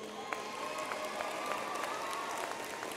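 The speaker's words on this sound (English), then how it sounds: "Please give your parents and friends a round of applause at this time, graduates." A graduation audience applauds for parents and friends, distant and soft, a steady wash of clapping with a few sharper claps standing out and faint cheering beneath.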